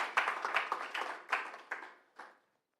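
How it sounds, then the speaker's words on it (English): A short burst of audience applause at an academic conference on good governance, fairly close and moderately loud, with scattered claps fading out after about two seconds. "a round of applause"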